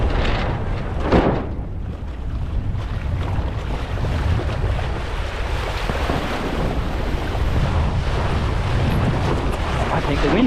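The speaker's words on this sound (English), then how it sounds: "I think the wind's kicking in." Wind picking up and buffeting the microphone out on open water during windsurfing on a 92 cm wide JP SLW board, a steady broadband rush with waves and spray, loud and continuous with a gust around the first second.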